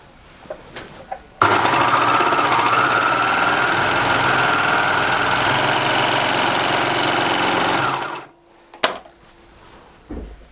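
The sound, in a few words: Baby Lock Imagine sewing French terry fabric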